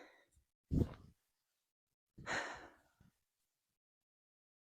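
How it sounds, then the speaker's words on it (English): Two heavy, breathy exhalations from someone walking uphill, close and loud, separated by a pause, like panting with effort; no talking. "heavy breathing because we're walking up a hill."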